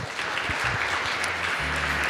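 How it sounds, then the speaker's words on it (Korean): A conference audience applauds after Professor Han Jong-gil's keynote at the 2019 Macnet event, with steady dense clapping throughout and a faint low voice or tone sounding underneath near the end. "다시 한번 큰 박수 부탁드립니다."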